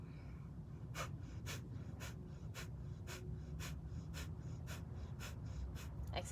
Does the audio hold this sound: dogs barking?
no